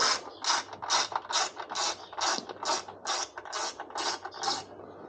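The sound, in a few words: ratchet removing hex bolts on KTM 1290 Akrapovic exhaust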